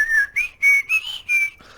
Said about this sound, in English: you recognize that whistle every single time you hear an Old Spice commercial